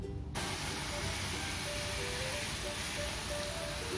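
A cleaning spray hisses steadily and continuously onto toy trucks, a close, even spray noise that runs unbroken for several seconds with no talking over it.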